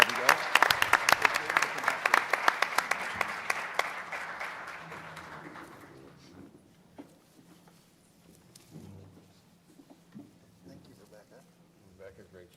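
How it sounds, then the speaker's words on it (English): Clapping from a crowd at a school board of trustees meeting, sharp dense applause for about five seconds that thins and fades out, followed by quiet room noise with faint voices. "One more time, big round of applause for Rebecca Moore"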